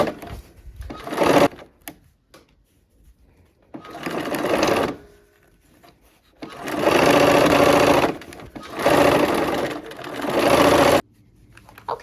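A sewing machine runs in several bursts, stitching and easing fabric for a quilt game-piece block: a short run, then longer steady whirring stretches separated by pauses, close and fairly loud.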